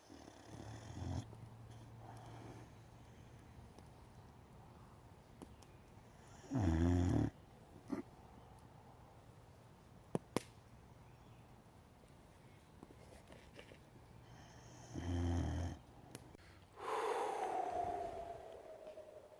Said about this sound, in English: I have a dog that's snoring on my lap, that's asleep standing up.